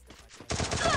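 Gunfire in a competitive shooter match, a quiet start followed by a loud rapid burst of repeated shots filling the second half.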